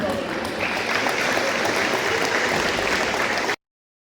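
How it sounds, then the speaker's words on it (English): Steady crowd applause with dense clapping throughout, fairly loud and continuous, stopping abruptly near the end. "Give them a round of applause, please."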